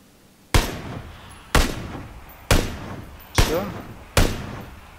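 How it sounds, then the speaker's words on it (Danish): Five sharp, loud gunshots ring out in a battle royale video game, evenly spaced about a second apart, each with a quick decaying tail. "Jeg kan bare høre, der er skud der"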